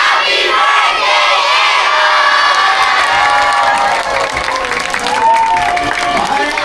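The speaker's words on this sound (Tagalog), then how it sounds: "gusto ko mas malakas ang palakpakan at hiyawan" A crowd of children and adults at a seventh birthday party cheers, whoops and applauds loudly and continuously, with shouting voices mixed into the steady roar.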